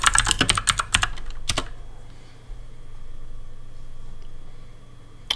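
A command typed on a computer keyboard, a rapid burst of crisp, close key clicks lasting about a second and a half, followed by a faint background hum.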